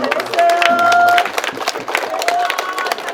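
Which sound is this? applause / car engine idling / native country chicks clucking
applause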